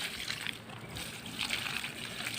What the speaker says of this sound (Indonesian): Sekarang kita siram semuanya ya.